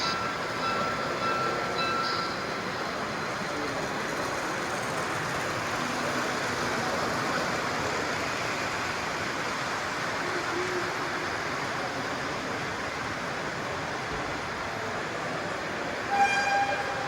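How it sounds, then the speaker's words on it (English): Long train led by D&H 5014 with 452 and Bicentennial Unit 1776 running on a layout at a hobby show. A steady rolling rumble lasts throughout, with brief horn toots near the end. "D&H 5014 leads 452 and Bicentennial Unit 1776. Decently long train."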